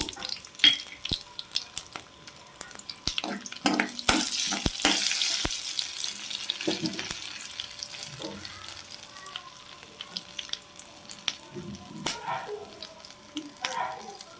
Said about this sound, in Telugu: ఇప్పుడు రెండు వెల్లుల్లి రెబ్బలు అయితే ఇలా కట్ చేసుకొని వేసుకుంటున్నాను అలాగే తాలింపు దినుసులు